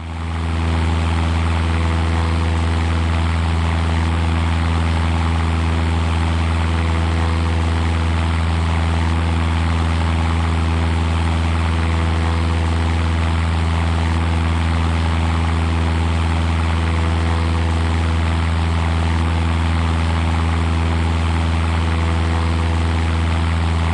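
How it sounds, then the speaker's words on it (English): A propeller aircraft engine in the FlyWings 2026 flight simulator drones steadily at constant throttle, a loud, unbroken low hum with harmonic tones and no pauses or voices. "Adjust throttle so the engine runs at 1700 RPM"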